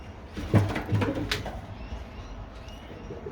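Pigeons cooing in a breeding loft during pairing, an opal grizzle cock with a black hen, giving a couple of low throaty coos near the start over quiet background noise, with no talk.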